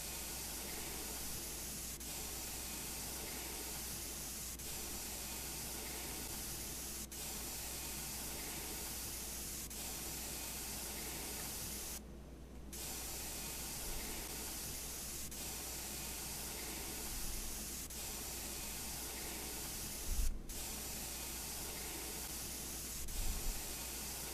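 Spray painting in the Junkyard Builder video game, a long steady hiss of spraying that runs almost unbroken, with a brief gap and a few faint clicks and thumps along the way, fairly quiet.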